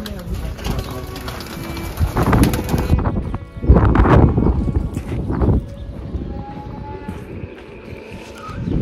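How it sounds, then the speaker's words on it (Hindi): Wild pigeons coo softly in a date palm garden farm in Saudi Arabia, amid rustling and scattered knocking sounds, with a few louder bursts of movement in the middle. "ये जंगली कबूतर"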